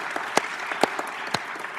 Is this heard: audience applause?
yes